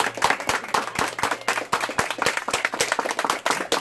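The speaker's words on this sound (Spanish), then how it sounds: "Quiero un aplauso para Dios y para cada uno de ustedes." An audience at a gathering claps in a brisk, uneven burst of many hands, close and lively, with no talk over it.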